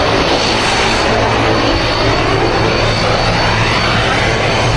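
A Yeti Airlines passenger plane at Kathmandu airport gives off a loud, unbroken engine roar that fills the whole clip at a constant level, close by.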